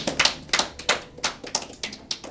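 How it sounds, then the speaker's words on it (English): A small group of people claps in a steady, sparse rhythm, individual hand claps distinct and moderately close, with no talking over it. "While we're clapping"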